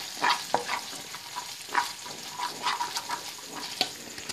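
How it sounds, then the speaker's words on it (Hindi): Chicken 65 sauce with hot sauce and soy sauce stirred in a frying pan, a spoon scraping and clinking in irregular bursts over a light sizzle, close and moderately loud with no talk. "अच्छे से मिक्स करेंगे।"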